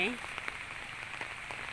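Steady rain falls outdoors in a soft, even hiss, fairly quiet and continuous throughout, with a brief high voice at the very start.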